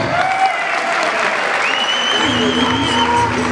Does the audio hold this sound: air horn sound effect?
no